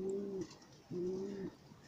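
Two low, drawn-out coos from a nearby pigeon, separated by a short pause, soft and close against quiet background.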